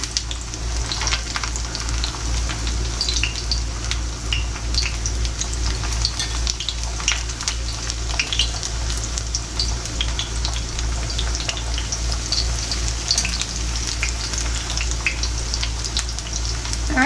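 Thin pork chops sizzle and spit in a hot frying pan, a steady close crackle with scattered pops running throughout, with no talking.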